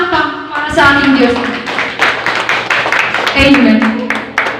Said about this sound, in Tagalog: Malakas po na palakpak para sa ating Diyos.